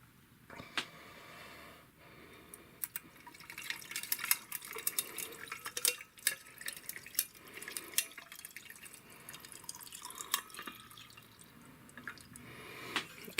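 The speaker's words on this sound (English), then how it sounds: "We're going to add some cold tap water." Cold tap water pours and trickles into an insulated Klean Kanteen TK Pro thermos over ice cubes, with faint drips and soft clinks in a quiet room.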